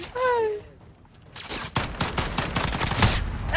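Dense rapid gunfire rattles through a Call of Duty match on the Shipment map, opening with a short tonal whistle before sustained overlapping bursts of automatic shots fill the rest of the clip.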